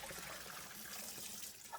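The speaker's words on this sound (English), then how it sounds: "Drain it and wash the stingray one last time." Water drains from a bowl of stingray pieces during washing, giving a faint, steady trickle and gush with no voices.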